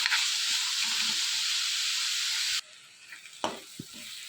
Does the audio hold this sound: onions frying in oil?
yes